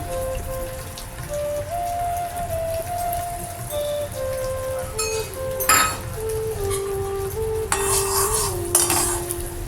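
Cardamom goes into a pan and is stirred, giving light metallic scrapes and clinks over a faint background patter, with a few sharper knocks toward the end.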